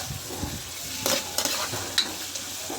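Fried fish being stirred in a pan with pepper and seasoning, a soft steady sizzle broken by a few sharp scraping clicks of the spatula, close and fairly quiet.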